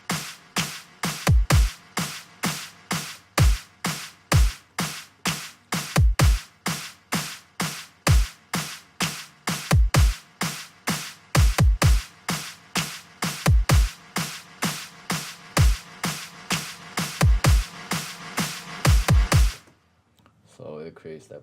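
Snare build-up for an electronic dance drop, a fast steady run of sharp hits drenched in reverb that swells and pumps between strikes, ending abruptly in a short noisy tail.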